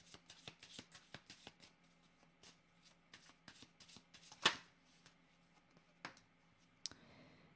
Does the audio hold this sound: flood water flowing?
no